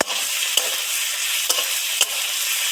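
Amudi fish curry sizzling in a hot pan as chili powder is stirred in, a steady frying hiss broken by a few sharp scrapes of the spoon, close and alone.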